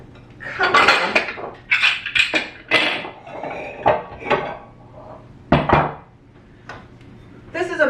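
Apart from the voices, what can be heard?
mixing bowls being handled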